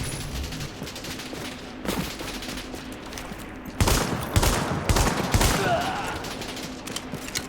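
Rapid automatic gunfire from The Division, dense overlapping bursts of shots that grow louder and heavier partway through, with no voices over the shooting.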